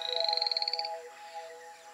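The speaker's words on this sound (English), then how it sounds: "Poison dart frogs." Poison dart frogs in a jungle give a rapid, pulsing series of high chirping croaks for nearly a second, then fade into a quieter animated background with steady tones.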